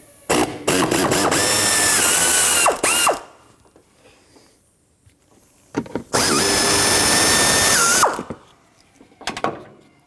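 A powered driver whirs loudly in two bursts of about three and two seconds on the 10mm mounting bolts of a Dodge Dakota's upper shroud, with short whines as it spins up and down and quiet gaps between.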